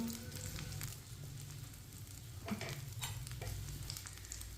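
Sandwich paste frying in a pan: a soft, steady sizzle with occasional scraping stir sounds, fairly quiet and continuous throughout.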